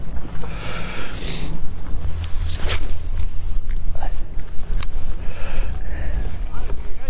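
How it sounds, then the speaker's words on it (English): Steady coastal wind buffeting the microphone on a cold morning fishing in Delaware, a low rumble throughout with gusty swells, and people talking nearby over it. "It's windy out here, I'll tell you that."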